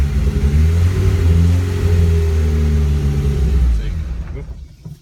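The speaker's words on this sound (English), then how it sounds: "I just kind of feather the throttle a little bit to kind of keep it rolling" A Callaway Rabbit's engine on a dead-cold start is held at a steady, rough mid-range idle by light feathered throttle, droning loudly up close before easing off and dying away at the end.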